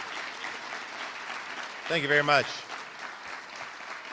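Audience applause welcomes the Mayor of Seattle at the State of the City address, a steady wash of clapping that runs throughout while someone briefly says thanks over it.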